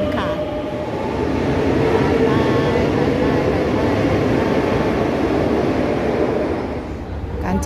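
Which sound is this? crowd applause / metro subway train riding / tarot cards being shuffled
metro subway train riding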